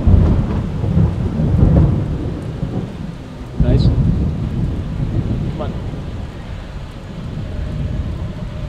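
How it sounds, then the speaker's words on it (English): Rolling thunder from an approaching storm in the Peruvian mountains, deep rumbles swelling and fading over rain and wind noise, one sharper crack midway. "the thunder is getting louder."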